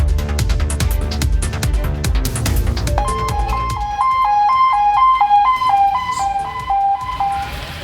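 An ambulance stuck by a landslide near Coonoor in the Nilgiris sounds its siren, a loud, close two-tone wail repeating steadily over rumbling, clattering traffic noise.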